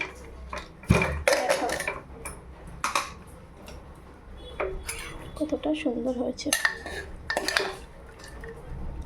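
Metal clatter of a pressure cooker being opened and handled, holding baby chicken curry with boiled vegetables, with lid and pot knocks in short bursts under a woman's intermittent speech.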